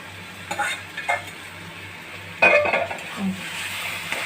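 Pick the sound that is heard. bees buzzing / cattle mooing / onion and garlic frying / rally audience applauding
onion and garlic frying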